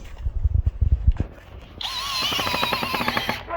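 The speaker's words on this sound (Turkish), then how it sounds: "Bu şekilde vidayı atıyorsunuz." A power drill drives a screw into a 144 by 66 cm wooden wardrobe being assembled. It whirs loudly and steadily for about two seconds, after a few knocks and handling sounds at close range.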